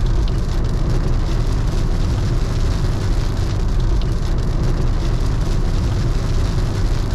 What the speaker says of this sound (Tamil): இப்போ ஸ்லைட்டாக மழை பெய்ய ஆரம்பிச்சிருச்சு, இப்போ கொஞ்சம் நல்லாவே பெய்யுது.